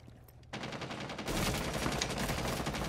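Gunfire in the Rainbow Six Siege tactical shooter game, quiet at first before a sudden run of close automatic shots that swells into continuous rapid fire.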